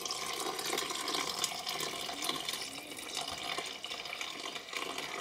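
Filtered water pouring steadily into a bowl holding sourdough starter, a continuous close splashing flow that lasts the whole stretch with no talking.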